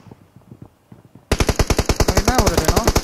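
Rapid automatic gunfire in the mobile shooter BGMI bursts in loud and close after a quieter stretch of faint, distant shots, continuing as a fast, steady stream of rounds.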